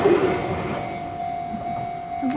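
A green Enoden train in Kamakura, Japan rumbles past close by with a steady mechanical drone and a sustained tonal whine, continuous throughout with no voices.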